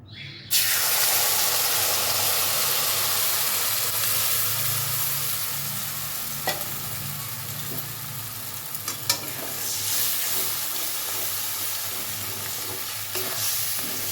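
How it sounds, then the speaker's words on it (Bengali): Dhoka lentil batter frying in hot mustard oil in a wok, a loud, steady sizzle with hiss and steam that runs throughout, broken by a few scraping stirs and small clinks, with no talking. "এবার আমি গুলে নেওয়া ধোকাটা দেব।"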